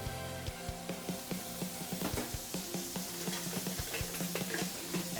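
Steak frying with onions in oil in a hot pan for a Philly cheese steak sandwich, steady sizzling under frequent clinks and scrapes of a utensil stirring, close and with no talk.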